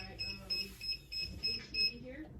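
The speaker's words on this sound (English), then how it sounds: "my alarm is, or my timer is going off." A heat press timer beeps in a quick repeating pattern of short, high electronic tones, fairly faint, with someone talking over it.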